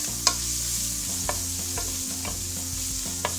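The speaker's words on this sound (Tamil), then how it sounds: "இஞ்சி பூண்டோட ரா ஸ்மெல் போகிற வரைக்கும் இதை வதக்கிக்கணும்." Ginger garlic paste sautéing in a pot for mushroom biryani: a steady soft sizzle runs throughout, broken by a few sharp spoon scrapes and taps as it is stirred, with no talking.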